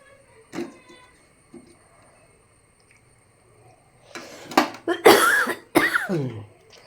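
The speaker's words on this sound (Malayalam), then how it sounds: "വീഡിയോയ്ക്കകത്ത് എൻ്റെ ചുമയൊക്കെ കേൾക്കാം." A sick man coughs repeatedly up close, first with a couple of isolated coughs, then a cluster of harsh, loud bursts near the end in an otherwise quiet room.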